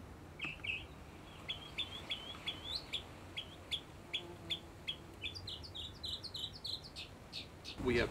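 Migrating songbirds call from treetops after a spring crossing of the Gulf, giving a steady series of short, bright chirps and tweets at a moderate distance, with a faint low rumble of background.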